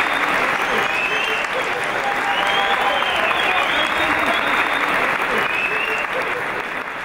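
Sustained audience applause fills a fitness event evening, a dense, steady roar of many hands clapping at close range that holds level throughout before easing slightly at the end, with a few voices faintly mixed in.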